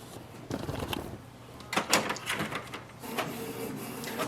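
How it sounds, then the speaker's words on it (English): A Canon Pixma TR4522 inkjet printer runs a print job nearby, with clicks and roller whirs, then a louder mechanical clatter and sliding carriage passes in uneven bursts, heard alone without talk. "So here we can see it has started to print."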